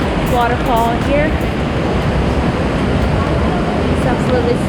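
The waterfall in Johnston Canyon gives a constant loud rushing roar of falling water, with people talking briefly over it.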